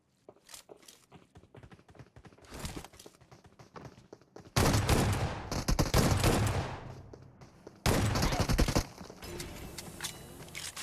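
Gunfire in the mobile battle game PUBG Mobile comes as scattered single shots, then two loud sustained bursts of rapid fire, with fainter shots and movement sounds between them.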